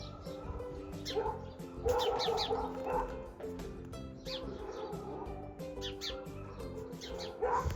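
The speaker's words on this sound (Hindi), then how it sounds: "और ये चिड़िया फिर से आ गई।" A bird calls repeatedly outside a hotel room in Shimla, with several clear, fairly close chirping bursts over a steady background hum and some faint household noise.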